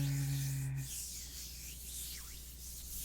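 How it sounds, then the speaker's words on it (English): Palms rubbing together as a calming self-soothing practice, a steady soft brushing friction that runs close and continuously for a few seconds with no one speaking. "rubbing down, down on your arms, or rubbing your palms together"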